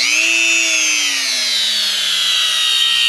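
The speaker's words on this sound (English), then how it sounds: "I've got the Dremel out. I'm going to slow it down a little bit, though." A Dremel rotary tool running at reduced speed grinds at a metal drum stand wing nut, giving a steady high whine with a slowly falling pitch that holds close and loud throughout.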